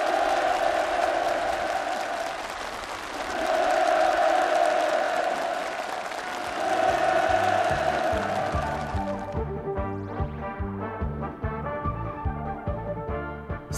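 Enthusiastic applause from participants at a housing handover ceremony at Changso Farm in Sinhung County fills the first nine seconds as a dense, steady wash, then gives way to music.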